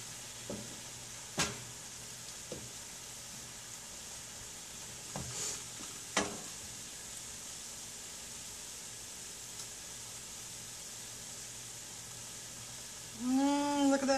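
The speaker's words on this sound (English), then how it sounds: "you want to add some vegetable broth to release that from the bottom of the pan" Vegetable broth poured into a hot pan of browning vegetables and broccoli gives a steady, soft sizzle throughout, with a few sharp utensil clicks and a brief squeaky tone at the end.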